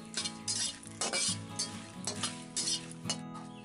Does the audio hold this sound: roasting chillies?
yes